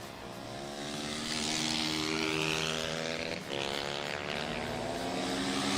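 A Kawasaki tracker 250cc race motorcycle screams past on a circuit, a loud, sustained high-revving engine note that swells, dips briefly on a gearchange or pass, then climbs again.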